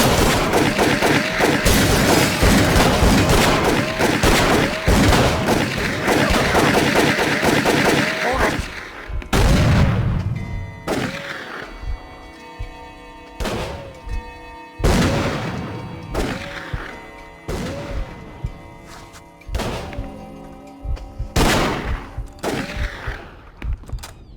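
Gunfire in Call of Cthulhu: Dark Corners of the Earth, a dense barrage of shots for the first several seconds, then a run of separate loud booming shots spaced a second or two apart, with faint voices mixed in.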